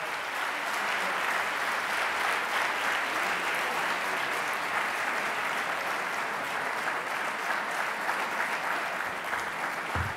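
Sustained applause from a large audience at an Italian political event, a dense even roar of clapping held for about ten seconds, somewhat distant and steady, with no voices over it.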